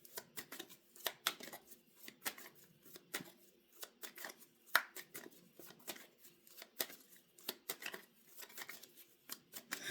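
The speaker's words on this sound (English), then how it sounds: "For those who don't want to watch the shuffling, skip ahead." A deck of tarot cards is shuffled by hand in a quiet room, producing a rapid, irregular run of soft riffling clicks and flutters that continues throughout.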